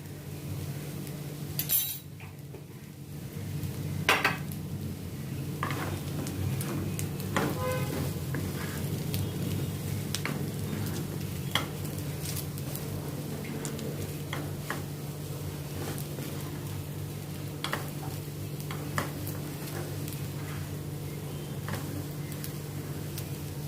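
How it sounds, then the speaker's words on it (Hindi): Spiced arbi (taro) is stirred in a pan after a sprinkle of amchur powder, giving a soft steady sizzle with scattered clinks and scrapes of a spoon against the metal, close by and with no talking. "अमचूर पाउडर थोड़ा डाल के इसको मैं मिक्स करती हूँ।"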